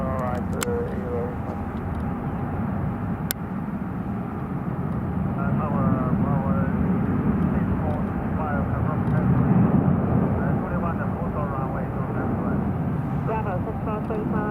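An airplane on the runway at Hong Kong airport, a loud continuous engine roar that swells and holds steady, with radio air traffic control chatter running over it.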